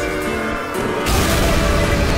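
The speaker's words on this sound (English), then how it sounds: "explosion." An in-game explosion in Team Fortress 2 bursts into a loud, dense roar about a second in and keeps rumbling over steady background game noise.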